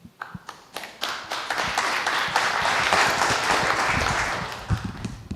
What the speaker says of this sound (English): He deserves 2 rounds of applause again